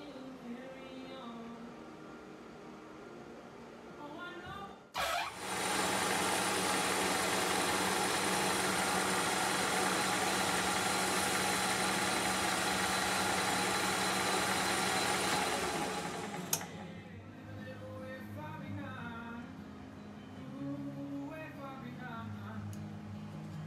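A metal lathe turns inch-and-an-eighth headset bearing cups for an old Schwinn bicycle, giving a loud, steady machine whir that starts abruptly, runs for about eleven seconds and then cuts off, with quieter shop sounds and faint voices around it.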